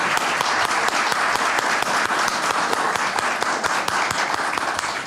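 A hall audience breaks into steady, dense applause at a Brazilian event marking 80 years of Sérgio Buarque de Holanda's book Raízes do Brasil, loud and sustained throughout without any voices.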